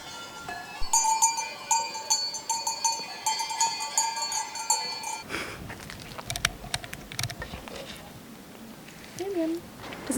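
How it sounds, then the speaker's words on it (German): A goat grazing on herbs outdoors in Sardinia, with a cowbell clanking in bright, repeated rings for several seconds before it fades into rustling and soft nibbling sounds, with a brief bleat near the end. "Die Ziege schnappt sich die guten Kräuter."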